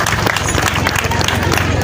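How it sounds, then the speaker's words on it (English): Dense applause from an outdoor-sounding crowd for a district leader at a public gathering in Moyo, steady rapid clapping filling the whole stretch with a low murmur of voices underneath. "Let us clap for him."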